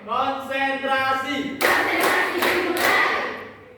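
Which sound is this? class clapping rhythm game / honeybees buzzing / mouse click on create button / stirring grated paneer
class clapping rhythm game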